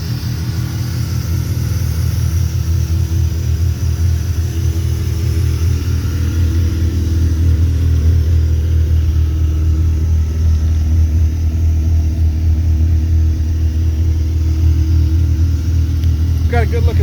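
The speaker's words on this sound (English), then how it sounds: "the engine has finally ran more than just a couple of minutes or seconds at a time" A rebuilt 1987 Mazda RX7 FC Turbo rotary engine idles steadily with the car stationary, giving a low continuous rumble that stays close and even for the whole stretch.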